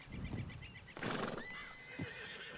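A horse in the video game Red Dead Redemption 2 whinnies with a rising, shrill neigh, followed by a snort and soft hoof clops, set against a steady ambient background.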